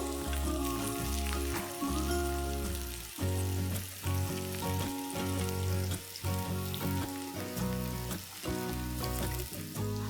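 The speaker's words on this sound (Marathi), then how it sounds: "अशा प्रकारे आपण आता वड्या शॅलो फ्राय करून घेऊया" Zunka vadi shallow frying in a pan, a continuous close crackling sizzle of oil running throughout at steady moderate level, without any talking.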